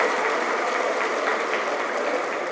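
An audience applauds warmly at the opening of a Reddiar community consultation meeting, a continuous, full burst of many hands clapping with no voices over it.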